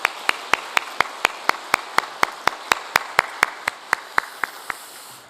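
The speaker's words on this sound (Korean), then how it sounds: "다시 한번 하나님께 영광의 박수" A church congregation claps for a 117th anniversary service, giving roughly twenty sharp, evenly spaced claps that ring out loud and unified with no voices over them.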